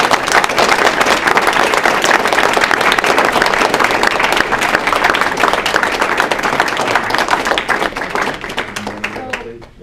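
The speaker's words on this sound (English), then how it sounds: "Can we give her a round of applause?" Sustained audience applause at a drug policy panel conference, a crowd clapping loudly and continuously for nearly ten seconds before thinning out and fading at the close.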